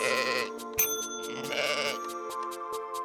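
Sheep in the video game Welcome, Dear Human bleat in a rapid series of wavering cries, several overlapping at first, then a row of short, evenly spaced clicks or ticks carries the remainder, with no voices present.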